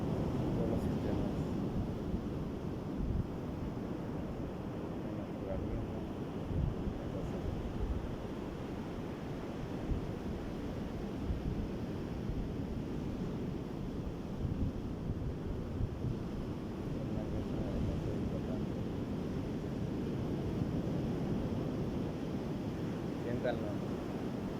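Sea waves wash against the shore with gusting wind, a continuous rushing roar of surf and wind noise that stays steady throughout.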